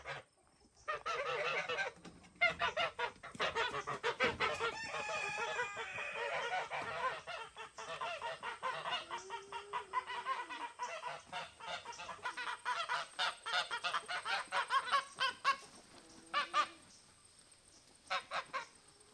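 Several geese in a homestead chicken yard honk repeatedly at close range, loud overlapping calls in uneven bursts, with a few chicken clucks mixed in.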